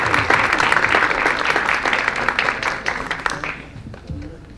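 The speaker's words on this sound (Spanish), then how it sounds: "Así que vamos a darle un fuerte aplauso al ingeniero Ricardo." An audience applauds an engineer at a school talk on industry, virtual reality and 3D printing; dense steady clapping fills the room, then tapers off and fades near the end.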